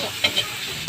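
Kaldereta stew sizzling in the pan as it is stirred, with a steady frying hiss and a few sharper scrapes of the utensil, close by and with no voices.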